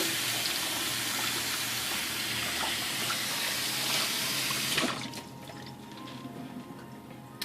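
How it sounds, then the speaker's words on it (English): Hands are washed under a running kitchen tap, a steady splashing stream near and loud that stops abruptly partway, leaving a quieter room tone with faint drips. "Okay, wash my hands quick."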